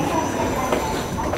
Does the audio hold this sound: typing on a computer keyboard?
no